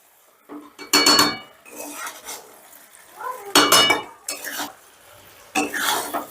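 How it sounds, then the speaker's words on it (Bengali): Fried eggplant folded gently into an egg and spice mixture in a pan, giving soft scraping and clinking bursts of the spoon against the pan in several separate strokes, close and moderately loud. "এবারে বেগুনটাও আমি আলতো হাতে মিশিয়ে নেব, যাতে ঘেটে না যায়"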